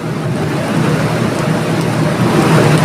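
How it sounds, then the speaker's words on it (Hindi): Heavy rain and fast-flowing flood water after a cloudburst in Farsadi village, a steady, loud rushing wash with no voices. "तो आप देख पा रहे हैं कितने तेज बहाव के साथ यहां पर इस पानी का बहाव देखा जा सकता है।"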